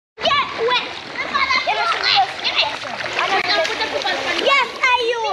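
Splashing from someone walking through water outdoors on a holiday outing, continuous and close, with children talking and shouting over it throughout.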